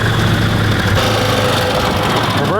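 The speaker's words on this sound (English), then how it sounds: "engine sounds good." A cheap side-by-side utility vehicle's engine runs steadily on its first drive, a loud continuous idle-like hum with low rumble and mechanical vibration, close by with no talk.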